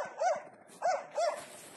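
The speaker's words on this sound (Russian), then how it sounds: "Собака что-то нашла" Hunting dog barking at a boar it has found in its den, three short yelping barks at moderate distance over outdoor background noise.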